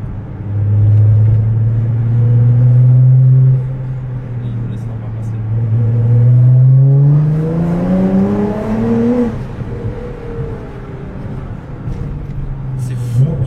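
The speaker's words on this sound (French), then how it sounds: "C'est fou ce moteur de la GTR, qu'est-ce qu'il est ouf." A Nissan GT-R engine pulls hard, its deep note climbing through rising sweeps as the car accelerates, then dropping back and building again, loud and close inside the car with occupants talking over it.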